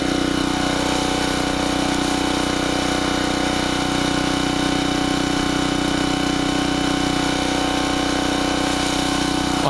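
A Generac 750 watt portable generator engine runs steadily at a constant drone after a mixture screw adjustment, loud and close with no surging.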